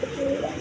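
A pair of colored Golla pigeons coos once, a short low hum that swells and fades close by, with no talk over it.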